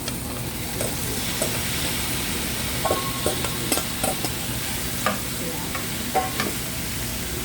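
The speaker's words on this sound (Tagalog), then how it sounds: "Pwede nang ilagay yung upo. Pwede na. Lagay natin itong upo" Upo gourd goes into a pan sizzling with ground pork, giving a steady close frying hiss broken by repeated spatula scrapes and knocks against the pan.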